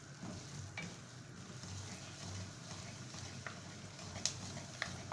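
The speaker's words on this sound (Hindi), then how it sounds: "मगज़ हल्का फ्राई करेंगे।" Magaz (melon seeds) fry in semolina halwa in a pan, giving a soft, steady sizzle with faint stirring scrapes, heard close and quiet with no talking.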